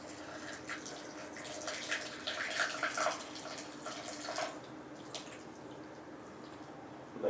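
Hot water pours and splashes into a cup of Thai tea in a soft, uneven trickle, fairly quiet and close, fading toward the end.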